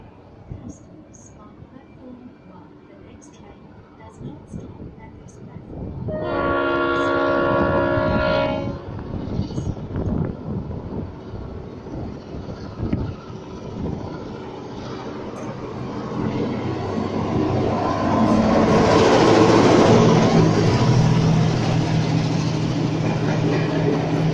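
A train passes East Richmond Station in Sydney: a brief two-tone horn blast sounds, then the rumble of wheels and carriages swells into a loud, close roar, with people talking at moments.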